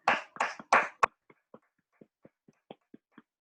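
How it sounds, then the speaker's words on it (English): A few participants clap during an online Toastmasters meeting: several bursts of clapping at the start, then a sparse run of single soft claps spaced apart, close to the microphone against silence. "A big round of applause to all and everyone"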